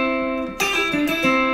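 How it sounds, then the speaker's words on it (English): Electric guitar playing a pull-off with a backward finger roll: a sustained tone, then a few quick plucked notes in succession, clear and close with no talking. "this is gonna be a pull off with a backward finger roll."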